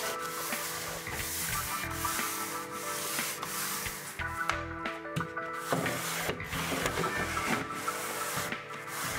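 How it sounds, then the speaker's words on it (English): Sandpaper rubs back and forth over old paint on wooden stairs, a close, repetitive scratchy rasp with uneven strokes and occasional pauses, heard alone without talk. "Then sand so as to obtain a surface so the paint can adhere better."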